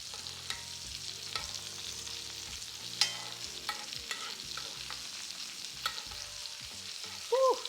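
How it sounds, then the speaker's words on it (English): Steak sizzling in a pan while basted with garlic butter and rosemary, a soft steady sizzle broken by repeated spoon scrapes and clinks against the pan, close and fairly quiet. "Just baste it. All that flavor is just gonna go right into your steak."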